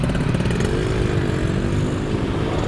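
Yamaha Aerox scooter carrying two riders on a night ride, its engine droning steadily and close with a slight rising pitch as it accelerates, alone without talk.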